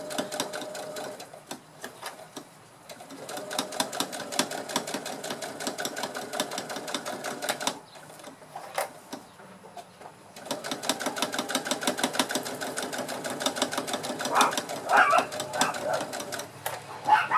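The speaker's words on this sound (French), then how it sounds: "je fais une piqûre au point droit tout le long" Sewing machine running a long straight-stitch topstitch on a fabric backpack, a steady fast whirring rhythm in bursts with short pauses between runs, close and clear with no talking.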